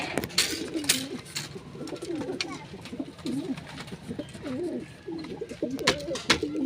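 Pigeons coo repeatedly in low, rolling phrases close by, with faint chirps and some background noise in between.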